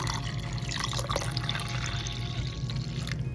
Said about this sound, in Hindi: चलो यहाँ पे जावन जो निकाल रखा है उसके अंदर ये दूध डालेंगे, अच्छे से मिक्स करेंगे।